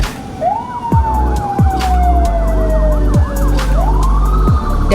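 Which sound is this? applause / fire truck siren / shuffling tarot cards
fire truck siren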